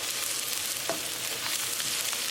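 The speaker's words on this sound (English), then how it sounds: "Cooking green chili with tadka for 1 minute." Green chili fries in a hot tadka for a beef tenderloin curry and is stirred now and then, making a steady close sizzle with a faint scrape of the spoon.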